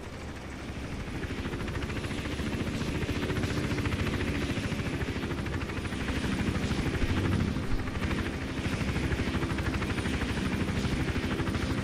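A helicopter in the video game Hitman: Absolution gives off a loud, steady rotor thrum with a continuous throbbing chop and engine whine, holding close and constant throughout with no talking.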